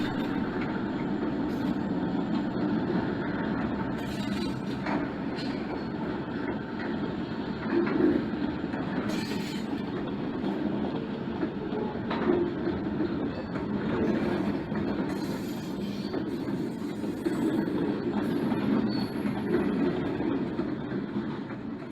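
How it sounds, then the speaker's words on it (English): A Penn Central coal train rolls through Selkirk in a train simulation, a steady low rumble of wheels and wagons with occasional clanks and squeals, continuous and moderately loud. "Here's the train John dispatched as UB2A, rolling through Selkirk."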